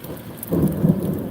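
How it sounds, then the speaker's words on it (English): Thunder rolling during steady rain outdoors, a low rumble swelling up midway over the constant hiss of rainfall, fairly close and without any voices. "That was thunder, my friends."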